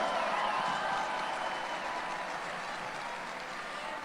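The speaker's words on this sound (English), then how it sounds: "Give them a round of applause, all these local businesses who committed to solidarity today." A large outdoor crowd at a protest rally applauds and cheers for local businesses, making a dense, steady wash of clapping that fades slightly toward the end.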